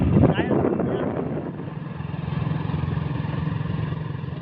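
A motorcycle engine idles and revs close by as riders get on and set off, a steady low rumble with a louder burst at the start, under background voices.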